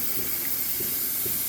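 Steam hisses steadily from the drain cocks of a steam locomotive on a maiden run at Northcliff Woods, a continuous broad rushing blow at moderate loudness with no voices.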